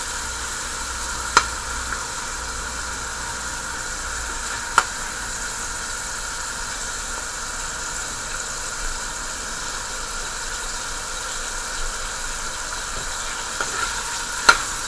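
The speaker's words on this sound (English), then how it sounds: "So the oil is ready, and I put the beef in. Just want to fry up a little." Beef frying in hot oil, a steady even sizzle that runs unbroken throughout, with a few sharp clicks from the pan scattered across it.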